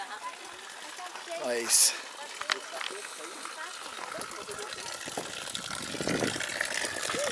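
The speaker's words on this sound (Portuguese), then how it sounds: "vamos pegar aqui uma aguinha na bica" Water runs from a spring spout beside a walking trail near a waterfall, a faint continuous trickle heard under close talk from a man, with a brief sharp clatter early on.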